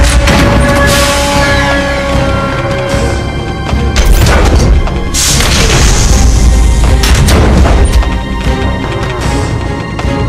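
A radome is blown apart in the Metal Gear Solid final level, a loud sustained roar of explosions and crashing debris lasting the whole span over a dense game score, with heavy booms swelling near the middle.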